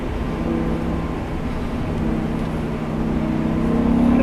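A BMW car accelerating uphill in third gear on a performance driving course, heard from inside as a loud, steady engine drone that rises slightly in pitch toward the end.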